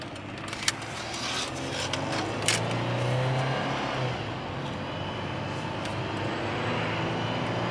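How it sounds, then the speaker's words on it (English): A 2002 Dodge Intrepid on a test drive, heard from inside: a steady engine and road drone holds throughout, swelling slightly mid-way, with a couple of brief knocks and no speech. "gonna do a test drive."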